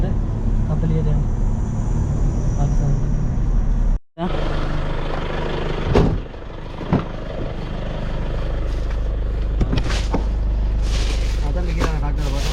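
A friend's new motorbike cruising along a Sri Lankan road at about 40 km/h, with a steady engine drone and wind rumble throughout. The sound briefly cuts out partway through.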